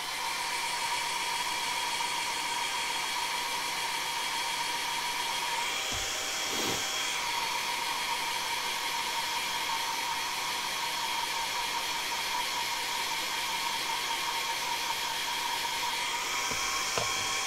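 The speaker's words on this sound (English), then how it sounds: "I'm going to give these a blast with the hairdryer now because they've been dry for a little bit." Hair dryer blowing on freshly painted Fallout Wasteland Warfare miniatures: a loud, steady whirring blast that runs continuously and close, with slight shifts in pitch as it moves, and no talking.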